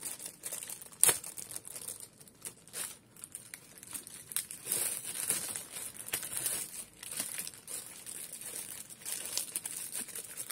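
Crinkling foil wrappers as Dragon Ball Super card game packs are pulled out and unwrapped, a continuous close rustle with sharper crackles and small tearing bursts throughout.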